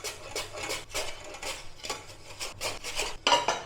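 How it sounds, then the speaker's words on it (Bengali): A knife thinly slicing potatoes on a board, with quiet, steady rhythmic cuts about every half second and a slightly sharper clack near the end. "এখানে আলু নিয়েছি, আলুটাকে কাটবো।"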